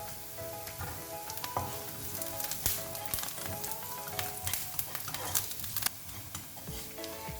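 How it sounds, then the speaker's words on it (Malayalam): Green chillies and curry leaves sauté in hot oil in a pan while ginger pachadi is made for a Kerala Onam sadya, giving a steady, close sizzle with scattered clicks and scrapes from stirring throughout. "അതിലേക്ക് കട്ട് ചെയ്ത് വെച്ചേക്കുന്ന പച്ചമുളക് കൂടി ഇട്ട് കൊടുക്കാം. നന്നായി ഒന്ന് വഴറ്റിയെടുക്കാം."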